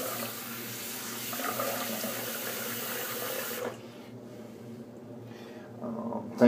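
Water runs steadily from a tap for a few seconds to wet the head before a razor shave, then cuts off, leaving quieter handling noise.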